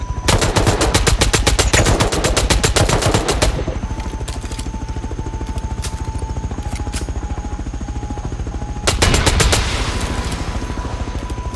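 Bursts of rapid automatic gunfire aimed at a helicopter in the game Rust, a long volley, then a pause under the steady rotor thrum, then a shorter volley, all loud and close.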